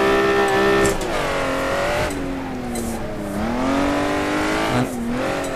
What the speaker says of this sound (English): And then full throttle.